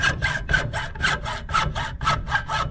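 A hand saw cuts straight down through a PVC pipe coupling in steady back-and-forth strokes, about ten rasping passes with an even rhythm, close up and loud, with no talking.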